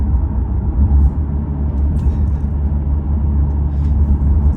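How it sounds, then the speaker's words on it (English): Interior road noise from a 2023 Mercedes-Benz CLA 250 4MATIC driving at night: a loud, steady low rumble of tires and engine without a break, with faint light ticks above it and nobody talking. "This is my test drive in my Mercedes-Benz 2023 CLA 250."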